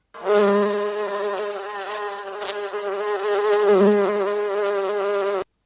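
A steady, close insect buzz with a wavering pitch, continuous for several seconds before cutting off abruptly.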